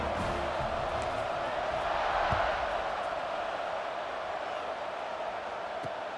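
Stadium crowd in College Football 26 at an Illinois at Colorado game, a steady broad roar of cheering that swells slightly midway, loud and continuous throughout.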